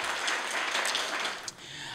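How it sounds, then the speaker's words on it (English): An audience at a Casa Ruby third anniversary reception claps for an honoured doctor, producing a steady, dense wash of hand claps that thins out near the end. "I just want to give an applause to Dr."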